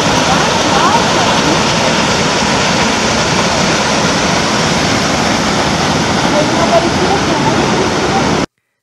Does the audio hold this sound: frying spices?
no